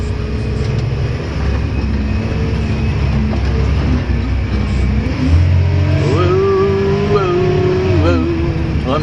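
A Case loader with a large bucket, about 60 inches, runs steadily at a land-clearing and logging site as it backs up. The engine drones continuously at close range, with a rising whine late on and people talking faintly over it.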